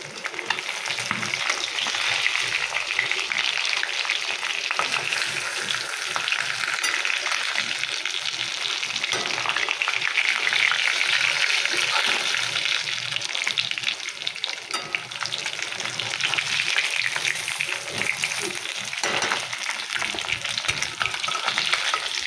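Hilsa fish frying in hot oil, a dense, steady crackling sizzle that runs continuously at close range, with occasional stirring noises.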